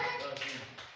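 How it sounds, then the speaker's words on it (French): Schoolchildren at a primary school clap briefly for a classmate, a quick, soft flurry of small hands lasting about a second amid classroom noise and voices. "on applaudit pour elle."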